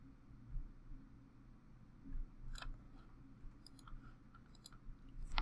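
A computer mouse gives a handful of faint, sharp clicks, a single one and then small clusters, over a quiet, low background hum.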